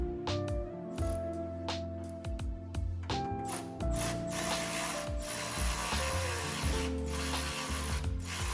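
A ratchet tightens hardware on a Jeep Wrangler fender, producing loud, close, rapid clicking in repeated bursts with short pauses between strokes, with no talking.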